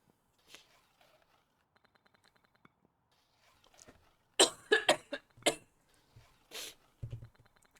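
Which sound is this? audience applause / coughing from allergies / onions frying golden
coughing from allergies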